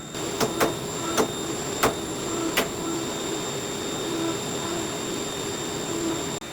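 A CNC mill cuts a workpiece clamped in a vise for a knife bevel fixture, a steady high whine running throughout with a handful of sharp ticks near the start.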